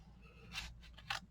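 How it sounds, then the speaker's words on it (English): Scissors snip through paper pages of an altered book, two short crisp cuts close by and faint, separated by a brief pause against a quiet background. "I got to get my scissors in a position I can cut"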